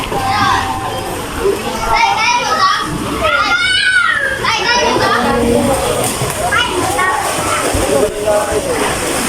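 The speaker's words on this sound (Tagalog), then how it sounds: "Ay, swimming mga bata." Children play and shout with excited voices at a mansion swimming pool, a busy crowd of young voices layered over steady splashing and watery noise, continuous and fairly close throughout.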